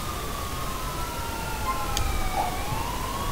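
Police sirens in the game GTA IV, more than one wailing at a distance as long sweeping tones over a steady background hum, with a brief sharper blip near the end.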